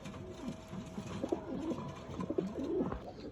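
Pigeons, including young birds, coo softly while bathing outdoors in fine weather, a few low throaty coos repeating close by over faint background noise with no talking.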